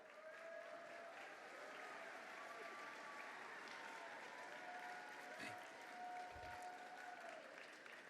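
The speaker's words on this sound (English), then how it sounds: "y'all clap, y'all clap" Audience applause at the opening session of a championships event, a faint, steady wash of clapping from a large crowd heard at a distance, with some voices mixed in.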